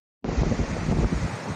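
Wind gusts buffet the microphone on the St. Francis coastline, a sudden, steady, broadband roar with nobody speaking.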